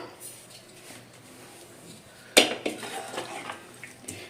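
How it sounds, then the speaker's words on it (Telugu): Boiled mutton paya goat legs tumble into a cooking pot with a sudden loud clatter of metal and a wet splash, followed by softer clinks and stirring. "ఒక వన్ మినిట్ ఉడికిన తర్వాత మనం ఈ పాయ ఇందులో వేసేసుకోవాలి"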